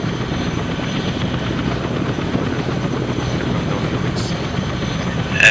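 Aircraft flying in Arma 3 during an airborne training run, a steady broad engine drone with rotor-like churning held at constant loudness, a brief click near the end.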